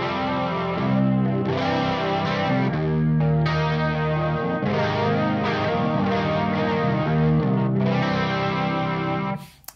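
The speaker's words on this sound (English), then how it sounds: "So this is now in glorious chorus ensemble stereo." Electric guitar through a chorus ensemble pedal on a DOOM-inspired pedalboard, played in stereo into relatively clean amps: a lush, shimmering wash of sustained chords and notes that rings continuously and close, with no talking.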